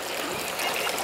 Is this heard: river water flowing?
yes